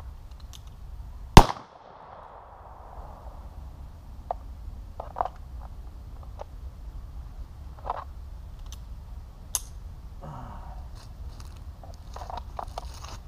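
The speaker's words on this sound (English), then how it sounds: "Shooting right in there. Just point and shoot." A single sharp, loud crack of a shot rings out early from a long-barrelled Cimarron Colt .45 revolver, followed by quiet background with faint scattered clicks and handling noises.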